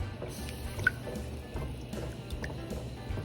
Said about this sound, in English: So I want to keep stirring with my spatula